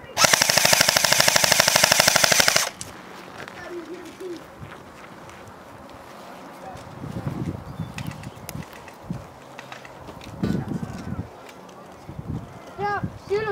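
Airsoft guns in an outdoor airsoft game in Colorado: a loud, rapid automatic burst for the first few seconds, then scattered quieter shots and rustling movement while players talk.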